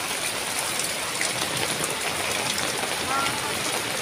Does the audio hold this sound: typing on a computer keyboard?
no